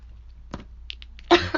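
A person who is sick gives a couple of short coughs, one faint and one louder with a quick follow-up, in a quiet room with small breathy sniffles between.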